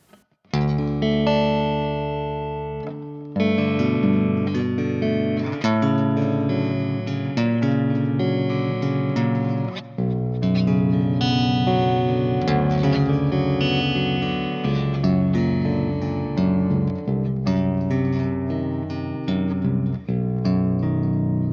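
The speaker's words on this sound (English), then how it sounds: "we have the Mesa Boogie Mark V. This is a clean patch. Sounds really chimey." A clean electric guitar through a Kemper profile of a Mesa Boogie Mark V with 6L6 tubes on channel 1 plays chiming, ringing chords and notes for over twenty seconds, steady and fairly loud, with a bright shimmer and no voices.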